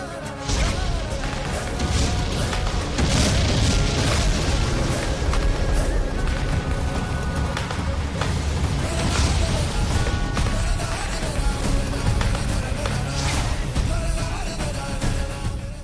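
Firecrackers bursting inside a storage warehouse, a dense loud barrage of cracks, bangs and booms with a continuous roar of crackling and sizzling throughout, no pauses.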